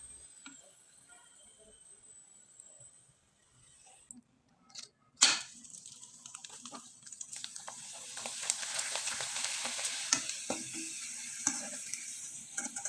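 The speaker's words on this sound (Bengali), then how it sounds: "এবার আমি কয়েকটা চিপস আপনাদের ভেজে দেখিয়ে দিচ্ছি।" Flour chips hit hot oil and fry with a rising, crackling sizzle that settles into a steady bubbling hiss, close by, after a few clinks of utensils.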